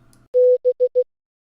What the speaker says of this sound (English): The first little group is a dash followed by 3 dots.